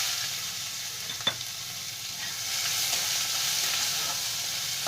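Finely chopped onion frying in oil with fenugreek seeds and asafoetida over a medium flame: a soft, steady sizzle with one sharp click of a utensil, growing slightly louder midway.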